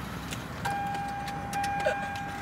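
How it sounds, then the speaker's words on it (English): A parked car's engine idles steadily nearby, a low continuous hum with a faint tonal whine layered over it and no voices. "I forgot to turn off the car"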